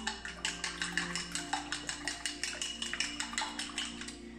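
Eggs and tomatoes with a little salt are beaten in a pan or bowl with a utensil, making rapid, rhythmic clicking taps that stay steady and close with no talking.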